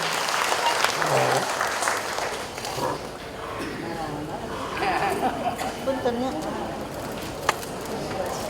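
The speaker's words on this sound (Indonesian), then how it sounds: "Boleh tepuk tangan untuk Jam Popong" Audience applause at an elderly people's congress in Bandung, a broad clapping texture that thins out while voices and murmuring continue, with one sharp knock near the end.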